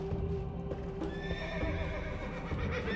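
Horses in the game Thief 2 neigh and whinny with clip-clopping hooves, a steady close whinny running over a dense ambient game background with no talking.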